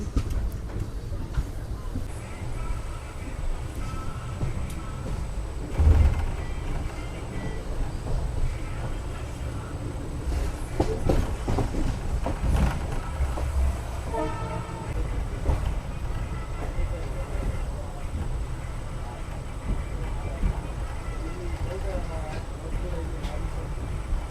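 A passenger train pulls out of Ghatkesar station bound for Cherlapally, its steady rumble and rolling wheel noise carrying on throughout with a few louder knocks, while someone talks over it.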